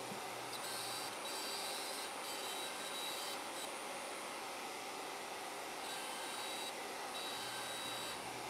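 A Shaper Origin handheld router mills small gear holes in a board, a steady high-pitched whirring roar with a faint spindle whine, continuous and close throughout.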